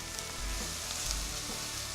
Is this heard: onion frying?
yes